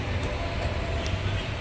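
At a railway station, a passing train makes a low, steady rumble mixed with faint rattling and a few light metallic ticks, heard at a moderate distance without clear talk.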